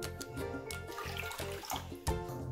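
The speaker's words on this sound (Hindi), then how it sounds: "तो कढ़ाई में हम 2 कप पानी डालेंगे।" About two cups of water are poured into a kadhai set on a gas stove for cooking potatoes, a steady gushing splash with a brief sharper clatter near the end.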